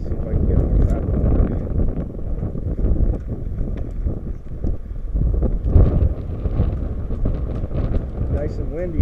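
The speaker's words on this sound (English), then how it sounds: "Nice and windy today." Wind buffets the microphone during a mountain bike ride on the Easy Rider trail at Snowmass on a hot, breezy day, producing a loud, continuous rumbling roar that stays strong throughout.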